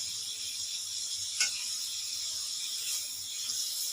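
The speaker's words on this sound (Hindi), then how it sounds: "मसाले का जो बचा हुआ ऑयल है उसी के बीच में ही हम चिकन को ऐड कर रहे हैं और इसको फ्राई कर रहे हैं" Chicken fries in leftover spiced oil for a korma with a constant bright sizzle and hiss close by. One brief clack cuts in partway through, and no voices are heard.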